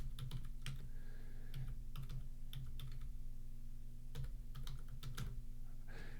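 Irregular clatter of typing on a computer keyboard: bursts of keystrokes separated by short pauses, close and clear over a steady low electrical hum.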